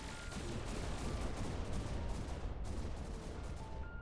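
Cannon and laser beam weapons firing in a space ship battle video game, a dense continuous crackle of rapid shots and bursts, fairly faint and steady, with no voices.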